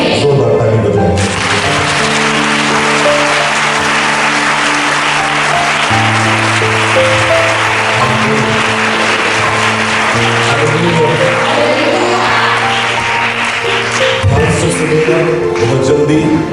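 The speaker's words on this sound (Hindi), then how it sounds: "जोरदार ताली बजाएं" A church congregation claps loudly and continuously for a long stretch, a dense, steady wash of hands over sustained keyboard-like tones.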